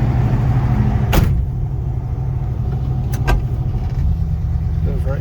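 A Pontiac Ventura running after sitting unstarted for three years, a steady low idle rumble close by, interrupted by a couple of sharp metallic clunks.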